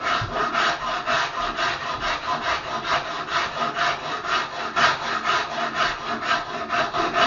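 A Shinto rasp scrapes side to side across a wooden gunstock, making a loud, close, rhythmic rasping as quick strokes repeat steadily without pause.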